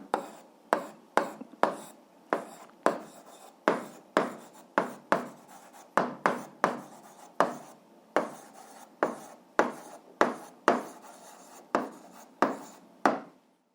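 Pen strokes on paper underlining algebra expressions, about two dozen quick scratchy strokes in a steady rhythm, close and clear with no talking.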